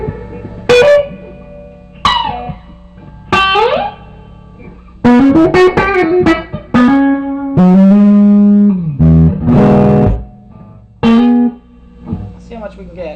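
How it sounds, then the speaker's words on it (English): An 18-watt amplifier with a homemade reverb add-on rings out a sequence of plucked guitar notes and chords, each loud and trailing into a reverberant tail. A voice speaks briefly between the phrases. "So I'll turn the amp up some more and the reverb."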